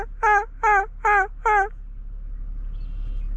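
Four quick, rhythmic calls from a wild turkey ring out close and loud in succession, then give way to quiet outdoor ambience.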